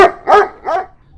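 Street dogs bark outside at night, three sharp barks in quick succession, loud and close, with brief gaps between them.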